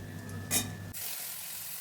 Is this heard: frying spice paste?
yes